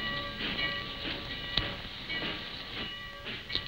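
A train rumbles steadily along the rails in an old Western setting, with a continuous clattering hiss and brief sharp metallic clanks near the middle and end, loud and close with no talking.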